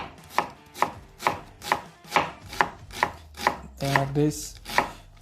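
A knife dicing an onion on a cutting board gives about a dozen even, crisp chops in a steady rhythm, close and loud, with a brief spoken remark partway through.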